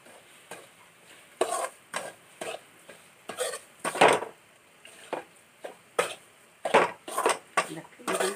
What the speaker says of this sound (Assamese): লাহে লাহে গাখীৰ দি লৰাই যাম।